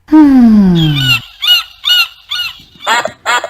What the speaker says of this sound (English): Peppa and George give duck feed to the ducks in the pond